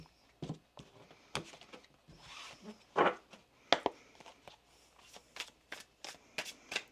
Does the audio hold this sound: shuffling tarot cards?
yes